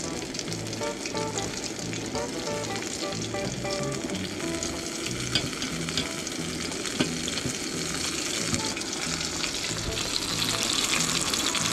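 Crappie and bass fillets fry in hot oil at a roadside fish fry, giving a steady, dense sizzle with crackling pops that runs unbroken throughout.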